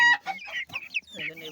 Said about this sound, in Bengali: মুরগির বাচ্চাগুলো, এগুলো নিয়ে যাবো আমার এখানে